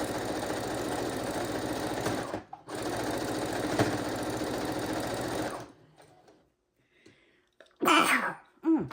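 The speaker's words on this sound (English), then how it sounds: "Pardon my sneeze, I'm so sorry." A sewing machine hums for several seconds, and after a pause a single sneeze bursts out close and loud.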